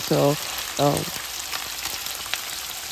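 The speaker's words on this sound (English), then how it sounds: "I'm searing frying the chicken" Chicken sizzles steadily in a hot frying pan, a constant crackling hiss, while a voice speaks briefly at the start.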